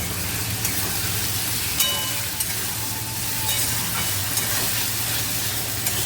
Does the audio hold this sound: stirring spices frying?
yes